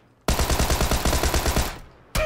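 Video game gunfire: a rapid, loud burst of automatic shots in a fast, even rhythm lasts over a second and fades, then another shot cuts in at the end.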